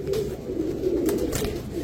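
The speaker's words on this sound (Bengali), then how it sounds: "হোয়াইট গ্রিজেল রেসার দেখেন কি সুন্দর মাশাআল্লাহ কবুতরটা" Soft, low cooing of a male White Grizzle racing pigeon rolls on continuously at close range, a steady murmuring drone with faint background noise.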